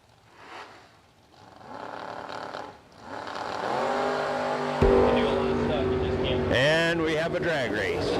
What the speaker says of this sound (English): And we have a drag race.